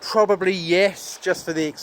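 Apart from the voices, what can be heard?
No everyday noise stands out behind the speech.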